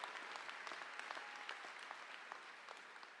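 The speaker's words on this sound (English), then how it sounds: "I want to give a round of applause to that national anthem. Let's hear it again." A commencement crowd at Indian River State College claps after the national anthem, a faint, distant wash of many hands with scattered sharper claps rising out of it.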